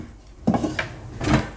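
A kitchen drawer full of utensils in a holiday house is pulled open, giving two short bursts of metallic rattling and knocking a moment apart, fairly close and with no talk.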